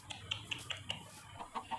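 Chickens clucking in the video game Minecraft, a quick series of short, bright clucks in an uneven rhythm, fairly close and heard alone.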